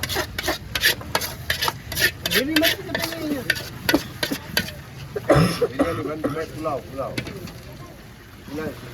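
Masala stirred in a large pot for a 250-person batch of Kutchi khari bhat, a steady scraping and rubbing of a ladle against metal with faint sizzling, close and continuous, under occasional talk.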